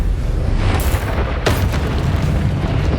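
A spell cast in Hogwarts Legacy lands with a loud booming burst and crackling impact, followed by a second sharp blast about halfway through, both set against a steady rumbling background.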